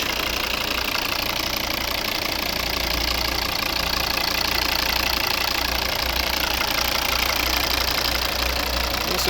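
A 2013 Volvo V70 with the 2.0 D4 diesel engine and automatic gearbox idles steadily and close by, a continuous low rumble with a faint diesel clatter and no speech over it.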